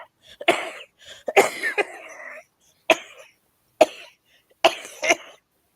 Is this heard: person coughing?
yes